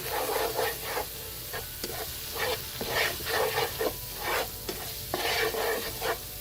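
Ground cumin, coriander and chili powder cook gently over low heat in a pan, with a soft sizzle under repeated brushing strokes of a spoon in steady bursts, close and quiet, and nobody talking.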